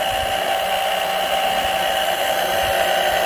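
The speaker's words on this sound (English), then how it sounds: "You can hear the pump will change sound when it's grabbing oil again." An oil extractor pump sucking mostly air during an oil change on a Seadoo RXP personal watercraft gives a steady, whining motor drone with a hissing, airy rush, continuous and close.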